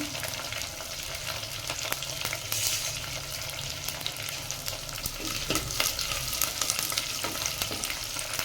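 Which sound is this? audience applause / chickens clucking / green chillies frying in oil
green chillies frying in oil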